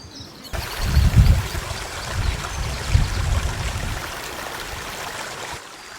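Water runs and splashes continuously nearby in a garden, a steady rushing trickle with low gurgling surges, faint bird chirps in the background.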